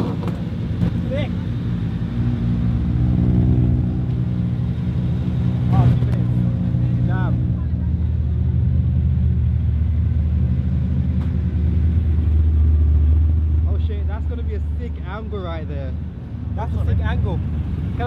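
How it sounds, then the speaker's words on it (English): Drift cars on a race track with a GTR nearby: a steady, loud engine drone and rumble runs throughout, rising and falling as cars pass, with people talking over it. "The drift cars are going on track, flipping out."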